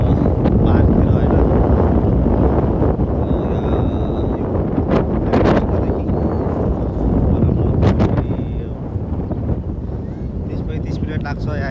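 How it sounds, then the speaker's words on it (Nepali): Strong wind blows across an outdoor park, buffeting the microphone with a continuous loud rumble that dips slightly near the end. "हावा बेस गरी चलेको छ है गाइज"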